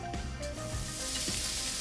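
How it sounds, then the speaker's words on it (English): Steady, bright sizzling of sausage frying in a hot pan, continuous and close, with a few faint utensil scrapes. "we're going to put that in the pan and let that sizzle."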